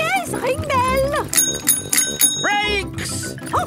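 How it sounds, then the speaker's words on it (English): Bicycle bells ring in a Peppa Pig cartoon among children riding bikes with police, a few bright chimes mixed with cheerful cartoon voices and music. "Ring your bell! Oh, yes! Ring bell!"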